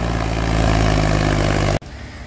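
A Mahindra 265 DI tractor engine runs at a steady, loud diesel idle with a low rhythmic thrum, then cuts off abruptly near the end, leaving quieter background noise.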